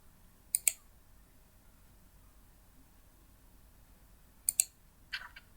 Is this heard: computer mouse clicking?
yes